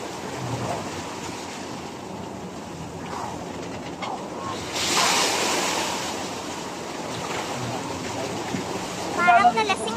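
Sea waves wash onto a beach in a steady broad roar, with a louder surge swelling midway, wind buffeting the microphone and people talking faintly in the background.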